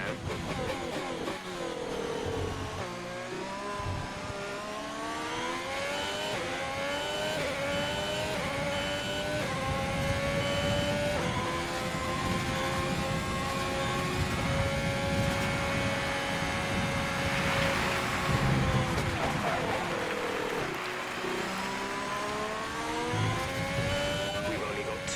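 A Formula 1 car engine at the Japanese Grand Prix in F1 2020, a continuous high whining drone that rises and falls steadily through gear changes, close and loud for the whole stretch.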